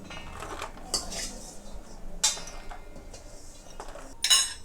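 Fried ingredients for tomato chutney are scraped out of a kadai onto a plate, giving several scattered metallic clinks and scrapes of utensil against pan and plate, close by with soft rustling in between.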